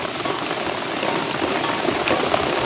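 Steady, dense rain pours onto a small hut during outdoor cooking, a loud continuous hiss of drops close by with no voices.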